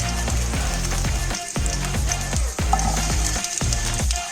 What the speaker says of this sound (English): So now the chili is fried. So I'll be adding the capsicum and onion into this.